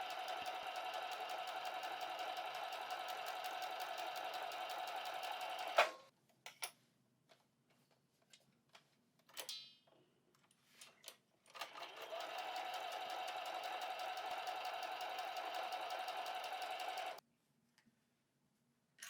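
Sewing machine stitching the edge of quilt batting, a fast steady mechanical whirring and ticking run for several seconds, then a pause with faint handling clicks, then another long stitching run before it stops.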